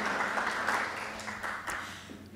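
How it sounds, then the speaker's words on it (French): Audience applause at an award ceremony for a jingle contest, a steady wash of clapping that fades slightly toward the end, with faint background tones and no speech. "On l'applaudit encore une fois."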